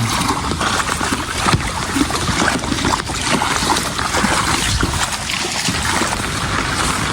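Rainwater rushes through the streets of a village during monsoon rain, a steady, loud broadband wash with gusty wind noise buffeting the microphone throughout.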